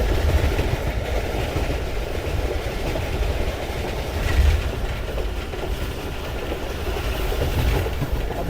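The Pakistan Express rolls along the rails with a steady rumble and rhythmic clickety-clack of wheels over track joints, heard continuously from on board without any talk.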